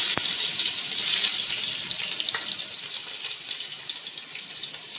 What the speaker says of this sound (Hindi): मैंने पतीले में प्याली घी गरम कर लिया है। अब देखें सबसे पहले मैं इसमें डालूँगी लहसुन